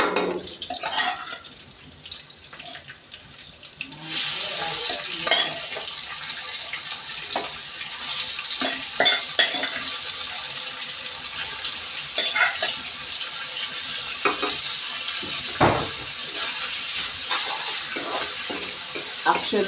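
Pre-boiled meat fries and sizzles steadily in a pan, with frequent scraping stirs and a few watery splashes close up, no voices.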